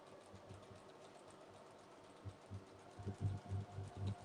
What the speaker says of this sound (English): now I'm going to stitch down here